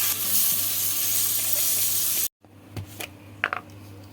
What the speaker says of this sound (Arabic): هنحمرها بقى كده وننزل عليها الرز طبعا زي ما احنا متعودين مع بعض